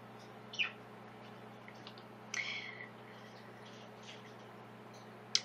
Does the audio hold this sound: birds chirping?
yes